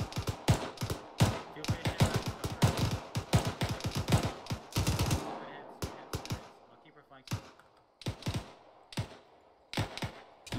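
Gunfire in the military video game Arma 3: a long run of rapid, sharp shots for about five seconds, then scattered single and paired shots after a pause, with voices at times.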